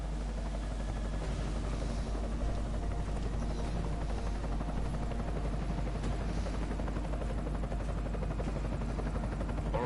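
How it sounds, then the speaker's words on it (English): Enemy helicopter in a video game flies overhead, a continuous loud rotor drone and whine that holds steady with no pauses or voices. "Enemy helo sighted."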